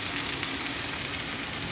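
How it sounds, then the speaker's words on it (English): Mushrooms fry in avocado oil in a pan with a steady, close, continuous sizzle and crackle that holds evenly from start to finish, with no talking. "Next I put the mushrooms in just to kind of brown the edges."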